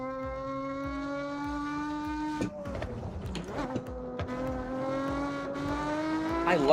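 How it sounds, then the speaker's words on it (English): A car engine in the Forza Horizon racing game revs in sustained tones that dip and rise with gear changes, a clear mechanical whine heard alone at moderate volume. "I love the sound of this car."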